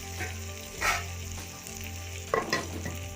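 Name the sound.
capsicum and green chillies frying in pan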